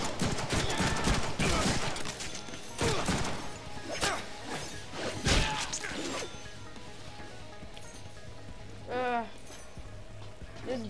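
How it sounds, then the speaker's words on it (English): A grenade goes off in the Deadpool video game, a loud burst amid a busy mix of gunfire, smashing impacts and game effects, with a voice speaking over the action. "Here's a grenade."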